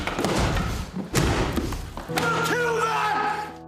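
A prop model piece made for a royal funeral scene is smashed, giving heavy close thuds and crashing impacts followed by scattering, ringing debris.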